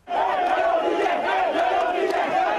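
A crowd in Banjul cheers the arrival of 4,000 West African peacekeepers, a dense, continuous roar of voices and shouts at moderate loudness.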